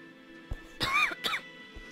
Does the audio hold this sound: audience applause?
no